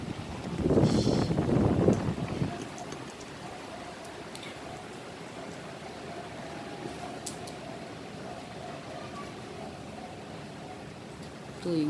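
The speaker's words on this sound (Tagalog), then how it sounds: "Nililipad ako ng hangin dito." Strong typhoon wind buffets the microphone in a loud rushing gust, then settles into a steady whooshing roar.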